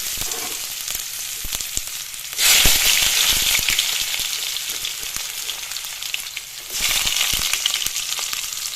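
Panch phoron spices sizzling in hot oil in a wok, a loud, steady hiss that flares up sharply twice, with no voices.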